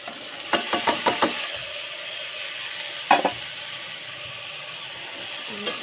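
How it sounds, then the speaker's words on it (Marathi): Cowpea pods go into a hot pan and are sautéed, giving a quick burst of rattling clatters, a later single clatter, and a steady sizzle underneath, close by and with no talk. "आणि ह्या चवळीच्या शेंगा त्याच्यामध्ये टाकून घेते"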